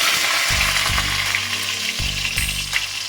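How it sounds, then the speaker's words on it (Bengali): Small new potatoes fry in hot oil with cumin, a loud, continuous close sizzle and crackle with a steady spitting texture throughout, and low stirring thumps underneath. "পরে এই যে নতুন ছোট ছোট আলুগুলো আমি কেটে রেখে দিয়েছিলাম এগুলো আমি প্রথমে ভেজে নেব"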